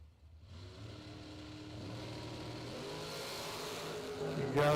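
A bracket racing drag car launching down the lane, its engine building from a low rumble into a rising, strengthening roar that swells loudest at the end, heard from a distance.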